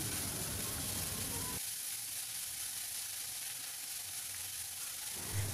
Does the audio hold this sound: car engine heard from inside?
no